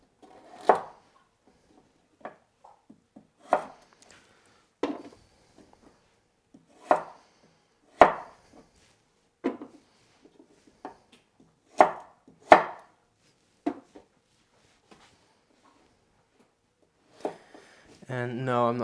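Unpeeled washed carrots sliced with a knife on a cutting board into sticks for crudités, a series of sharp, separate chops spaced a second or two apart, close and crisp, with quiet gaps and a short voice near the end.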